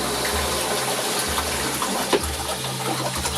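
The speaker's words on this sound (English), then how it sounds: "Got some water running here." Water runs steadily from a tap inside an RV, a loud continuous gushing hiss with a low pump-like rumble underneath, close and alone without talk.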